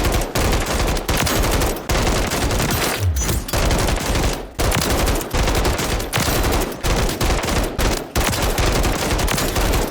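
A RAM-7 assault rifle fires on a video game firing range: loud, close bursts of automatic gunfire follow one another with short gaps between them, steady and dense across the whole stretch.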